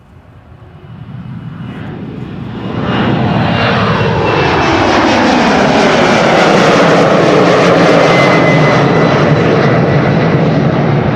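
A KLM Embraer 190 jet departs from Amsterdam Schiphol's Polderbaan runway in windy conditions, its engine roar building from a distant rumble to a loud, sustained rush with rising and falling tones as it passes close by.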